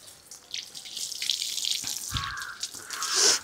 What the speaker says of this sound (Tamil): இப்போ ஃபஸ்ட்டு நம்ம செடிக்கு தாங்க தண்ணி பிடிக்கணும்.